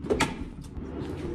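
A slide-out truck bed drawer pulled open, giving a short sliding rumble and a quick latching clunk close by, all over in about a second.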